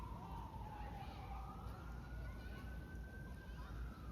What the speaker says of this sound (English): the distant New York sound of sirens and quickly moving craziness